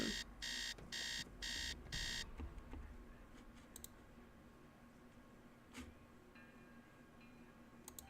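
An alarm clock rings in the Nancy Drew game Secret of the Scarlet Hand: four loud, evenly spaced bursts of shrill beeping over about two seconds, then quiet room tone with faint clicks.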